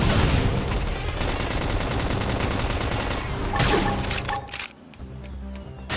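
A flame grenade skill in Xenoblade Chronicles X goes off amid dense battle effects: a loud continuous barrage of rapid crackling, popping bursts, like sustained fire, then a swelling whoosh that tapers off near the end.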